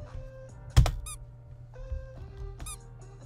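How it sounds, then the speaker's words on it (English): Sharp, high-pitched squeaks from the video game The Night ring out in a few short bursts over a low droning hum, with sparse electronic tones between them. "Squeak."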